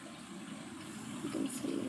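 Water from the supply line flows into a newly installed toilet tank as it refills, a steady close hiss and rushing wash that grows louder and fuller toward the end, with a voice speaking over it.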